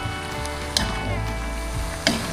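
Food frying in a heavily loaded kawali at an outdoor riverside cookout: a steady hiss and crackle, with a couple of sharper spatters or stirring knocks, and no voices.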